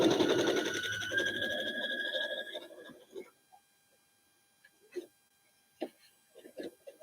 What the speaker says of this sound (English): Stop at that intersection, back stitch on both sides.